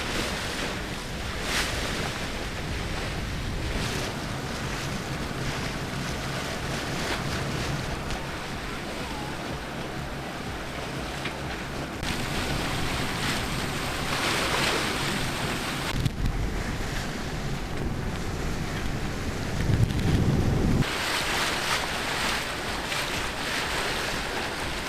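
A sailboat under way on a calm sea, continuous wind buffeting the microphone over sloshing water and waves against the hull, steady and close with occasional louder gusts.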